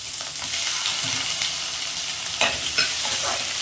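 Tomatoes frying in a hot pan for peanut chutney, a constant bright sizzle close up with a couple of stirring clatters near the end, no voices.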